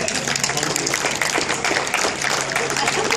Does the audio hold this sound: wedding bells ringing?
no